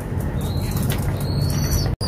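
Pigeons flap their wings loudly and repeatedly up close as they are taken out of a pigeon loft by hand, with a steady flurry of wingbeats and occasional faint chirps.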